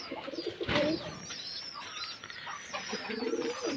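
Pigeons kept by a breeder coo repeatedly and close by in a soft, rolling rhythm, with a few brief chirps over a steady background and no talking.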